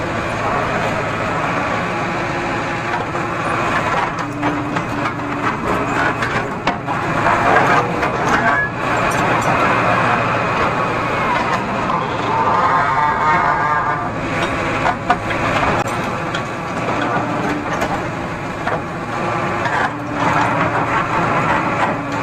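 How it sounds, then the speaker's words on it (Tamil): Tata JD 315 E backhoe loader engine running steadily throughout, a continuous loud diesel rumble with mechanical rattle and no clear breaks, during electrical board pipeline work. "ஆக்சுவலாக வண்டி சவுண்ட் வருது"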